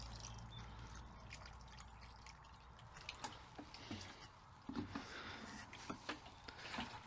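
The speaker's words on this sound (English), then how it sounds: "Water this in." Water poured in to settle a newly planted plant in a polytunnel gives soft, close trickling and dripping, with scattered small taps and splashes over a quiet background.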